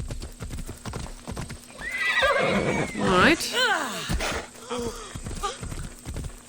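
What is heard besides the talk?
horse hooves and whinny in video game Assassin's Creed Odyssey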